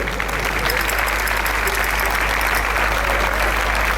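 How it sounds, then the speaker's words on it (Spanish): Audience applause for the sound technicians at a jota folk music festival in Puerto de Sagunto, with steady, dense clapping from a hall crowd over a constant low hum. "para él también un aplauso,"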